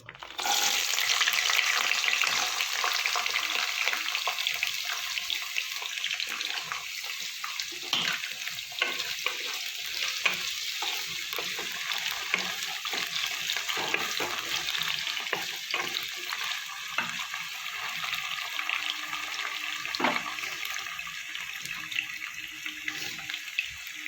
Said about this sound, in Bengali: প্রথমে আমি ফুলকপিটা ভেজে নেব।